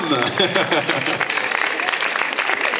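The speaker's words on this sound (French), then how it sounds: "On peut les applaudir bien fort." Audience applause at a community forum following a tap dance demonstration, a dense wash of clapping with a voice talking over it at the start, steady and fairly loud throughout.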